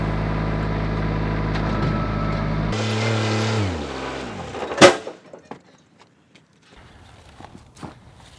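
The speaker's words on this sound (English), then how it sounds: "hooking on with the tractor and pulling it up there next to the garage" A Kubota L3200 tractor hooked to a camper drones with a steady low engine hum, then the pitch shifts and fades, followed by a sharp metallic clunk and a few faint knocks.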